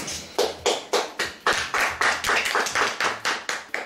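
A congregation claps at a religious wedding ceremony, a steady run of close, loud, rhythmic handclaps at about three per second for several seconds with no speech over it.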